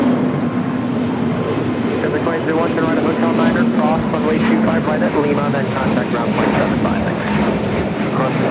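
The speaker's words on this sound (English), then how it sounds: "JetBlue A321 touching down here on" A JetBlue Airbus A321 touches down at LAX with a steady loud jet engine roar, while someone talks continuously over it.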